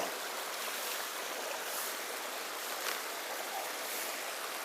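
A river stream flows outdoors near a junction of channels in light drizzle, a steady, even rush of water that holds at a constant moderate level with no voices.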